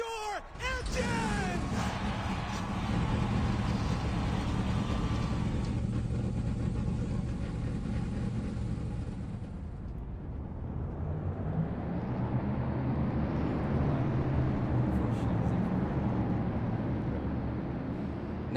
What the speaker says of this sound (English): Now that we got the engines fired up